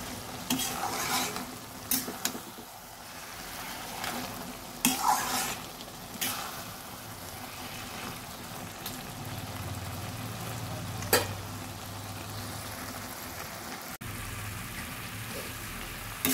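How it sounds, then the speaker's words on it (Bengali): Bottle gourd and fish head curry being stirred and dried down in a pan, with scraping spoon strokes and a low continuous sizzle, close and fairly quiet, no talking. "অনেকবার নেড়ে নেড়ে আমি লাউ দিয়ে মাছের মাথার তরকারিটা অনেকটা শুকিয়ে নিয়েছি।"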